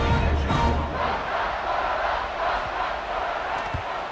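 A home crowd at a college football game between Colorado State and BYU roars in a dense, sustained wall of cheering and shouting that stays loud throughout, with no clear speech rising above it.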